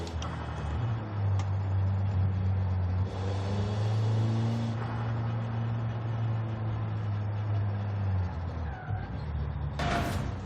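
Nissan Sentra Nismo in Forza Horizon 5, front-wheel drive with a 503-horsepower stock engine: a deep, loud engine drone rises and holds for several seconds, then drops away near the end.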